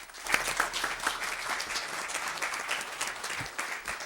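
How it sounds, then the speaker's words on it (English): Applause for the color guard at a city council meeting: a room of people claps steadily for about four seconds at moderate, slightly distant level, with no talk over it. "Applause for Color Guard."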